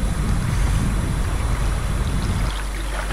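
Sea breeze blowing in off the ocean at a beach in Brunei, with continuous rumbling wind buffeting the microphone over a steady wash of waves, loud and unbroken, with no voices.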